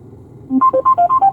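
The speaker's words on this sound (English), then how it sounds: "Oh, it's my ringtone." A phone ringtone starts after a short quiet lead-in, a loud, close melodic run of pure electronic tones in a quick rhythmic pattern.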